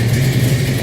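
A 1971 Dodge Challenger's 340 V8 rumbles steadily at a low, even idle, close and loud for a short moment with no one talking.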